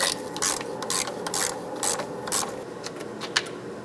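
A long ratchet wrench works a heated front shock nut on a 1996-2002 Toyota 4Runner, giving a series of loud, close ratcheting clicks in short bursts, about eight strokes with brief pauses between them.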